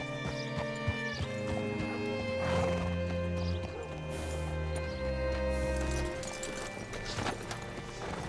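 A horse whinnies loudly amid clopping hooves and game sound effects in Red Dead Redemption 2, with steady music underneath.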